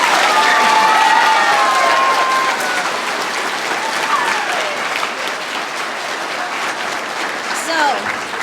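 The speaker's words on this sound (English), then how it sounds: "she deserves a huge, huge round of applause" A crowd at a school spring arts festival bursts into loud, dense applause with some cheering, strongest at the start and then settling into steady clapping, with a few voices and whistles mixed in.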